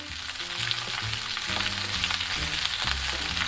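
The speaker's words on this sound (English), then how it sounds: "Please stir fry by mixing to ensure the oil coats them evenly." Cabbage and bell peppers stir-fry in hot oil in a pan, a steady close sizzle with intermittent scraping and tossing as the vegetables are mixed, heard alone without talk.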